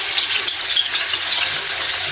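Chicken leg pieces frying in oil in a pan, a soft, bright, even hiss of sizzling fat with faint crackles, close by and with no talking.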